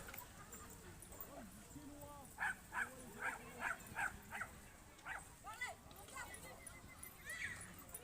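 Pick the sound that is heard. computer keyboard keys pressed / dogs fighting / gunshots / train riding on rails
dogs fighting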